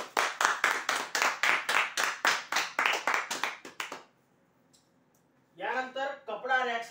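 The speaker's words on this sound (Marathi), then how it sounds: "जोरदार टाळ्या होऊ द्या यांच्यासाठी" An audience claps in steady rhythmic unison for prize winners at a lucky draw event, a run of about four seconds before fading to quiet, then a person begins talking.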